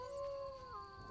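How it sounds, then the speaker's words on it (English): A dog howls in the background in a sustained, wavering tone that slides downward partway through, faint and alone with no talk over it. "My dog's running around in the background"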